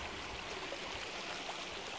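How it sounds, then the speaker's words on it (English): A creek in McKittrick Canyon, Texas, flows with a quiet, continuous rushing wash of water, steady and soft with no voices. "Absolutely beautiful spot in the creek. It's flowing pretty good now."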